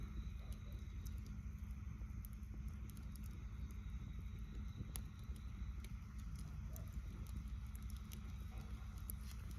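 A wood fire burns under a cooking pot outdoors at night, with a low steady rumble and scattered sharp crackles and pops, close and continuous.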